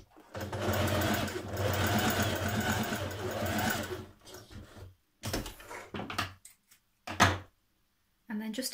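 A sewing machine runs a steady, fast stitching burst for about four seconds while sewing a shirt dress, followed by shorter stop-start runs and handling clatter, with quiet speech over it.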